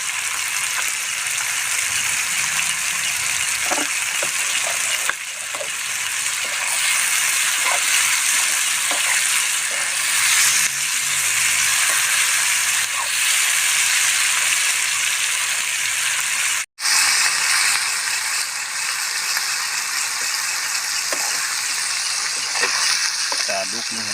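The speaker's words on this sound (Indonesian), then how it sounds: "Kita aduk nih sampai merata ya." Shrimp and small wader fish frying in a pan at an outdoor camp shelter, with sugar being stirred in: a loud, continuous sizzle with scraping stirring sounds and a brief dropout partway through.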